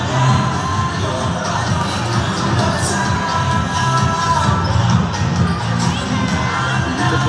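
Crowd at a local SK league basketball game between two neighborhood teams in a gym, cheering and shouting continuously with children's yells mixed in, a dense, loud roar that holds steady the whole time.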